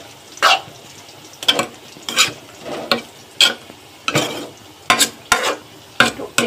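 Taro leaves being stirred in a pan, with a run of separate scraping and rustling strokes in an uneven rhythm, close and fairly loud, and no voices.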